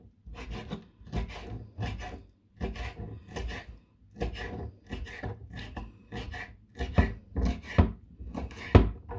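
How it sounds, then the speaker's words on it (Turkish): Rapid rhythmic knife chopping of liver on a board, bursts of quick strokes separated by short pauses, close and clear. "Arnavut ciğerini güzelce doğradım güzel bir şekilde doğradım."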